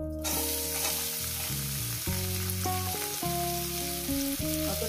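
Chopped onion dropped into hot oil for a fish and cauliflower bharta, a loud, steady, close sizzle that continues throughout beneath a background music track, with no talking.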